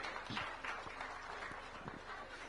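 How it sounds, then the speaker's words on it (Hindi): Audience applause for a member of parliament at a public discussion on law and administration in Ambikapur, with steady clapping that continues evenly for the whole stretch at moderate distance. "मैं चाहूंगा एक बार जोरदार तालियां चिंतामणि महाराज जी के लिए भी"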